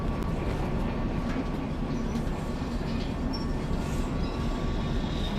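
A train in the Derail Valley game rumbles along the track with a dense, continuous low roar and wheel noise, heard close and steady throughout.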